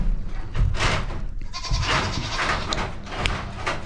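Barn goats waiting for hay bleat loudly and repeatedly, several overlapping calls close by, with rustling and shuffling around them in the barn.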